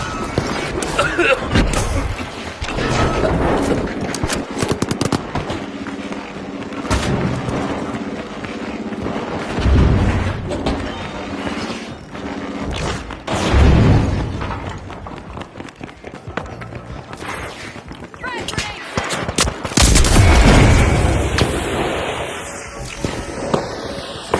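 Grenade blasts and gunfire pound through a chaotic video game arena match, a continuous dense barrage of booms and rattling shots with a few heavier bursts standing out.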